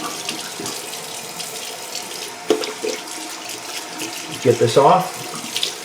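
Running tap water at a bathroom sink, steady and close, with splashing that swells near the end as a face is rinsed; someone speaks briefly over it.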